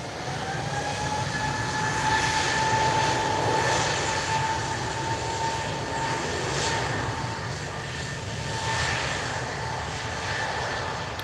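Embraer E190 jet airliner at Lisbon Airport on a cloudy, windy evening, a sustained engine roar with a faint whining tone riding on top, steady and unbroken with no talk.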